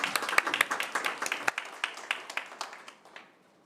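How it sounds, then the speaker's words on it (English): A small room of attendees at a school board meeting clapping for a donation, a modest patter of individual hand claps that thins out and fades toward the end. "Let's give them another round of applause for that generous donation."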